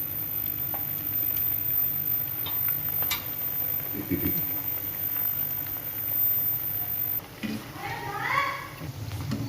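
Spinach pakoras fry in hot oil and get turned over until crisp, giving a soft steady bubbling sizzle under a voice talking throughout, with a brief clatter as the fritters are flipped.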